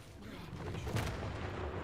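A cannon fires in the video game Uncharted 4, a dense, rumbling blast that fills the whole moment with loud, sustained low roar.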